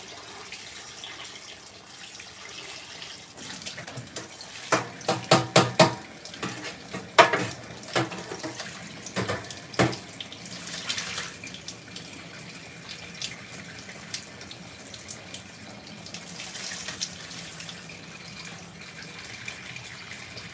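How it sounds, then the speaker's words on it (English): Hot tap water running into a sink while rice is being washed, a steady soft hiss of flowing water with a burst of clattering and splashing in the middle, no talking. "So I'm just washing my rice,"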